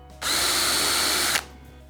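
A drill with a self-centering bit makes pilot holes for Blum cabinet door hinges, whirring steadily at close range for just over a second, then stopping abruptly in a quiet room.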